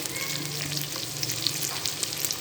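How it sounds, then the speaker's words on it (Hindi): Garlic fries in a pan with a constant, fairly soft sizzle and small crackling pops throughout, close by and with no voices. "लहसुन जो फ्राई होने में ज़रा टाइम लेता है"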